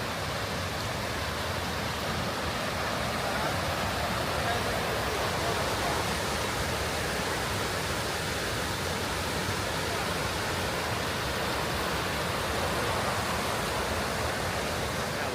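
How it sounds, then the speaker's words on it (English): Sol Duc Falls in Olympic National Park sends up a constant, dense roar of rushing water that fills the whole stretch evenly without a break, while a person briefly speaks under it. "how fast that water's coming towards those falls"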